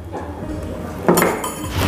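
Metal hook attachments from a new Miyako hand mixer clink and rattle as they are handled during unboxing, a short cluster of bright knocks close by with no talk.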